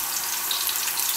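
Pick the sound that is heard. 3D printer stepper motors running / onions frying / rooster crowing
onions frying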